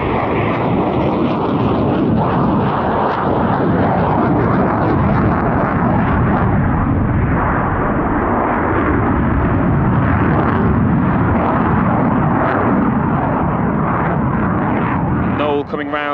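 Eurofighter Typhoon jet making a display pass at an airshow, a steady loud engine roar that holds throughout beneath a commentator's voice.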